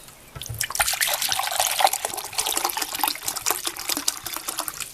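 Five-percent vinegar pours from a container into a measuring cup for pickled-egg brine, a steady close liquid splash and trickle with small drips, no voices.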